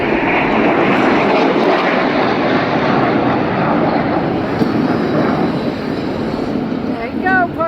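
A Soviet MiG-17 jet fighter roars loudly and steadily, its engine drone dominating throughout with little change in level, while a voice talks over it.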